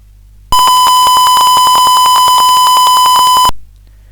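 A buzzer in an Arduino Uno soil moisture sensor simulation gives one steady, loud electronic beep lasting about three seconds, standing alone with no talk.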